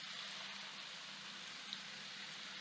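Garlic, shallot and other garlic noodle ingredients sauteing in a pan, giving a faint, steady sizzle like light rain with no talk over it.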